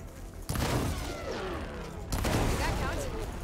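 Sustained gunfire from a heavy gun in Horizon Forbidden West: two dense bursts of shots, the second starting after a short break, loud and continuous with no talk over them.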